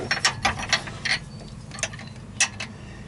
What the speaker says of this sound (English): You take your ratchet, hold like it's right here, and press it kind of like a screwdriver, pushing it in at the same time.